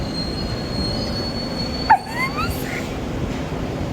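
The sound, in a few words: train arriving with squealing wheels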